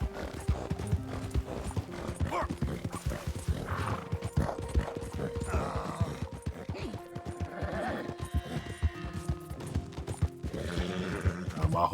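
Horse hooves galloping in Red Dead Redemption 2, a fast continuous clip-clop of near hoofbeats with occasional snorts and someone speaking over the ride.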